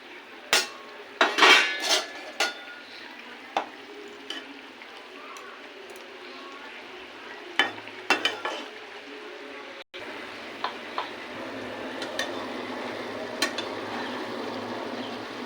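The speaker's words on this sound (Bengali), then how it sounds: "ভেজে রাখা বেগুনগুলো দিয়ে দেবো" Fried eggplant pieces tipped into a pan for begun bhog, sharp metallic clinks and clatters of a spoon against the pot, clustered early then sparser, over a low background hum with no voices.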